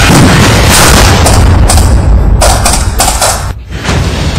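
An explosion and heavy gunfire sound during a commando counter-insurgency operation, loud sustained booms and bursts that fill the whole stretch, with no voices.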